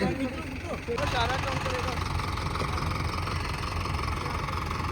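A Mahindra 6075 tractor, 75 hp with an AC cabin, idles with a low, steady engine rumble. Voices are heard over it in the first second.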